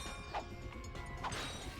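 Two short, faint smashing crunches of destructible light posts being broken in Ratchet and Clank, spaced about a second apart over a low game ambience.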